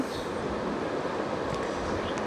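A train rumbles along a railway line near Tangail station in Bangladesh, a steady low roar with faint wheel clatter that holds throughout at a moderate distance, with no talk.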